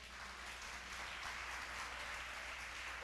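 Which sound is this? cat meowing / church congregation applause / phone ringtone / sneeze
church congregation applause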